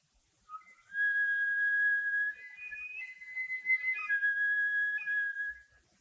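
A transverse flute plays a sustained tone that shifts between a few close pitches, clear and fairly quiet with soft breath, alone for about five seconds.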